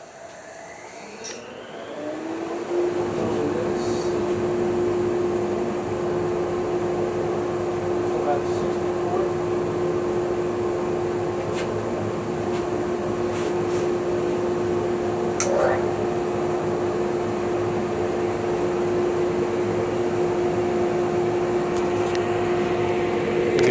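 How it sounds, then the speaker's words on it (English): A dust collector in a woodshop starts up and runs steadily beside a Jet JWDS-2550 drum sander being fed a thick black walnut top, its loud, constant motor whine and airflow roar rising after a few seconds and holding evenly throughout. "Turn on the dust collector."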